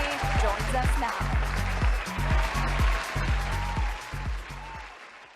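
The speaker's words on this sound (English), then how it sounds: "Let's make a huge round of applause, everybody." Audience applause at an evening corporate campus event, a steady crowd clapping that holds loud for several seconds before tapering off near the end, with a few voices mixed underneath.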